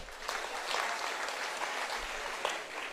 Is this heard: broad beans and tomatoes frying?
no